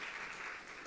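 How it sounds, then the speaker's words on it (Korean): A church congregation claps during a Sunday worship service, a brief, even burst of applause that sounds soft and somewhat distant, with no voices over it. "예, 박수 부탁드립니다"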